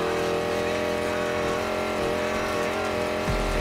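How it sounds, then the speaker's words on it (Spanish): A sports car in the Need for Speed Payback racing game roars at a steady high pitch, then a handbrake is pulled near the end, cutting the engine tone and leaving a low rumble. "Con la X, el freno de mano."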